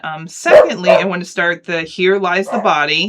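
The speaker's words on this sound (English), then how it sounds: "Oh, there goes the dog." A dog barks and yips in short, loud bursts close by, mixed in with a person talking over it.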